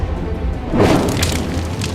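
A single heavy blast from Russian bombing in a residential area of Kyiv strikes a high-rise building, a loud booming explosion rising from steady rumbling noise and fading into a rough, roaring tail.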